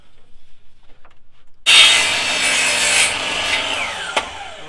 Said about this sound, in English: First thing I'm going to do is cut a 45 on it.